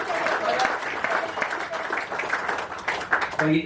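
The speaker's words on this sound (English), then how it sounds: "Round of applause for our non-boater champion, Corey Bowler." Crowd applause for the non-boater champion at a bass fishing tournament grand final presentation, steady clapping through the whole stretch with some voices mixed in.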